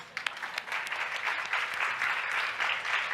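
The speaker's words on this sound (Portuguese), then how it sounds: "Uma salva de palmas para vocês" Applause from the audience at a health-professional talk, a steady moderate wash of clapping lasting a few seconds with no speech over it.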